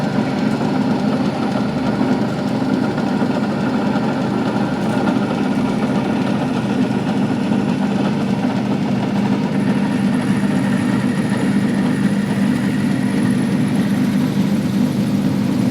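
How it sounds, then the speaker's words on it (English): Milling machine running during a whistle valve repair job, a steady loud mechanical drone with a strong low hum and even broadband noise throughout, no talking. "We'll crank up the milling machine."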